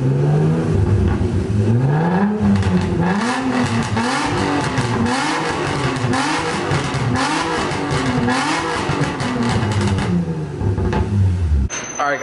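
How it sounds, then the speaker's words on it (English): Nissan 350Z exhaust revving inside a garage, a loud throaty note rising and falling in steady repeated blips for about twelve seconds, then cutting off abruptly. "Right now, you guys just heard my exhaust."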